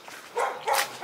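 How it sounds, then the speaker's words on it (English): Border collie barking outdoors during a snowstorm, two short distant barks in quick succession, faint and alone. "Sounds like a border collie."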